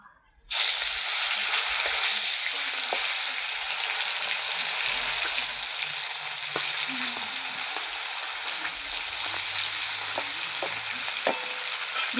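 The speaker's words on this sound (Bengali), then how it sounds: "তেল আমার গরম হয়ে গেছে, মাছগুলো দিয়ে দেবো। মাছগুলো পরপর ভেজে নেব।" Live tilapia fish dropped into hot oil, bursting into a loud, steady, close sizzle that holds for several seconds, with occasional pops and faint stirring noises.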